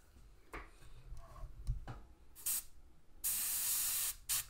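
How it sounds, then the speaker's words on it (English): An airbrush sprays a thin, lacquer-thinned paint onto a 1/35 HobbyBoss Land Rover WMIK scale model. A few quiet taps come first, then short hissing bursts, a longer steady spray and one final brief burst. "I'm going to airbrush this on"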